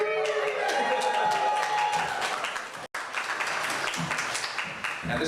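An audience at a bioregionalism conference session bursts into sustained applause and cheering, a dense wash of clapping that cuts out briefly and then resumes.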